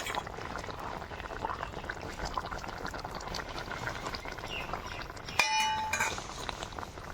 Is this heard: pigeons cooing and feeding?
no